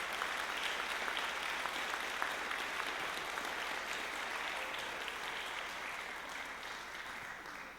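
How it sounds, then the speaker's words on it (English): Steady audience applause fills a Clovis High School spring band concert, dense and sustained across the whole stretch, fading only slightly at the end with no voices over it. "Let's give one big round of applause for those people."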